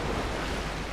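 A waterfall in the video game Dark Souls, a dense, steady roaring rush of falling water that fills the whole moment at close range, with no talk.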